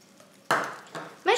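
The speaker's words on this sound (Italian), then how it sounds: "ma perché state sbattendo con un frustino?" A whisk beats mashed potatoes with butter in a cooking pot, giving a few scraping, clattering bursts against the metal, the loudest near the end, with quiet room sound between them.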